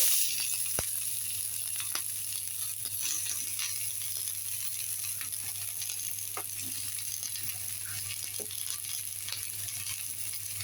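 Onions fry in oil for mutton curry, giving a soft, steady sizzling hiss with faint scattered pops and stirring ticks, quiet and continuous, without talk.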